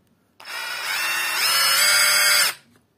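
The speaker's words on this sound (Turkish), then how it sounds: "hem kırıcı delici bir kaç tane deleceğiz" A cordless hammer drill whirs steadily for about two seconds, rising slightly in pitch partway through, then stops abruptly; close and loud, no talking.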